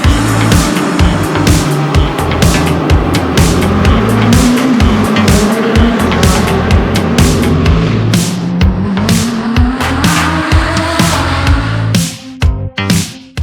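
Race cars roar through the temporary street circuit of the Long Beach Grand Prix, loud engines passing repeatedly with rising and falling pitch, tire squeal mixed in, heard from a parking garage above the track; the noise thins out near the end.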